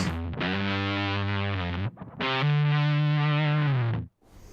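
Electric guitar through a Tym Guitars Black Mud fuzz pedal sounds two long, thick distorted chords, each sustained for about two seconds, loud and close, with a brief gap between them and a tone sweep.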